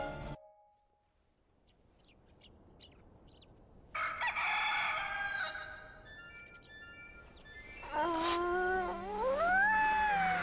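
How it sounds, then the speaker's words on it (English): Chicken crowing and clucking from the Hyrule Warriors video game, with several short calls and a rising crow-like cry near the end, set against game music and effects. "Beware the chickens."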